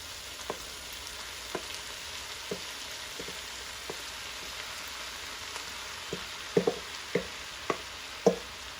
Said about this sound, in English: So the garlic is in, and now I'm going to go ahead and I'm going to add my walnuts and mushrooms.